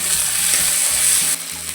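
Chopped tomatoes hit a pan of frying ground spices (chilli paste, cumin, turmeric) for a soybean curry, giving a loud, close sizzle that eases slightly near the end.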